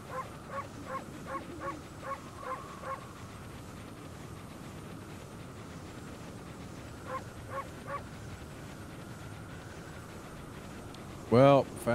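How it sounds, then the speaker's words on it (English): A wolf barks in the video game Ōkami HD: a quick run of six evenly spaced barks, a pause with low background hum, then three more barks and a final louder burst of sound. "Just barking to make sure no one's around."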